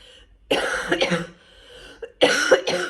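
Several close, harsh coughs in two bursts, a pair early on and another pair near the end, with a quiet gap between.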